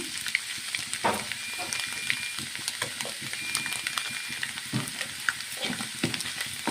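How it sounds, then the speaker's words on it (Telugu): Egg fries in a pan for egg fried rice, a close, steady sizzle with scraping stir strokes and small pops running throughout without speech. "ఇలా ఫ్రై చేసుకోవాలండి."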